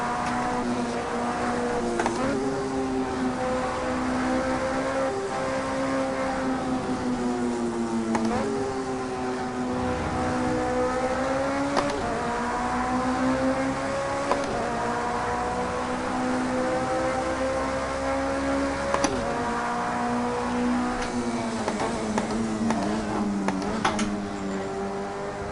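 Race car engine on a lap of a Le Mans racing video game, a steady droning whine that rises and falls through gear changes and revs, continuous and fairly loud with no talk.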